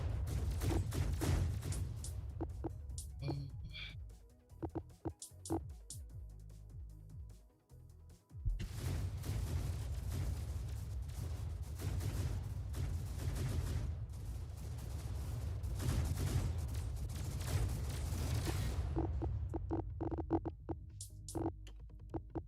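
Dense rolling artillery barrages and gunfire from a space strategy game pound almost without pause, with a brief lull before the heavy continuous bombardment resumes and carries on loud to the end.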